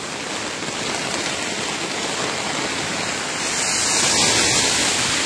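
Steady, heavy rain pouring down, a dense unbroken hiss that swells slightly louder toward the end.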